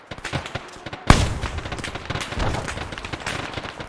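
Gunfire in an Arma 3 combat operation, a sharp close shot followed by rapid automatic bursts and scattered shots in a busy firefight.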